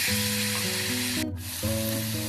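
Beef, onions and tomatoes fry in a pan in a Kerala-style beef curry, a dense, continuous sizzle close up, with low tonal hums layered underneath and a brief dip in the middle.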